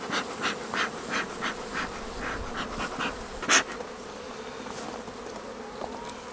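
Honey bees buzz steadily around an opened beginner beehive during an inspection, a close, dense hum with individual bees droning past, and no talking.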